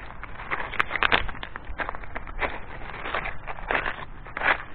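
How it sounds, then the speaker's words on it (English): Footsteps crunching across a rock bed outdoors, a steady run of gritty crackles and grinding scrapes close to the microphone, continuous and moderately loud with no talking. "The rocks are crunching."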